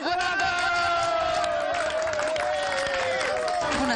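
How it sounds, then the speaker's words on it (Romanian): A studio audience at a Romanian television show applauds and cheers in a steady, dense wash of clapping that continues throughout, with voices mixed in. "Hai, la aplauze încă o dată!"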